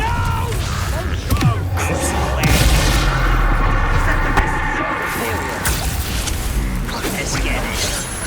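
A fiery Confringo spell explodes during a village battle in Hogwarts Legacy, with booming impacts inside dense, loud combat noise and voices shouting over it.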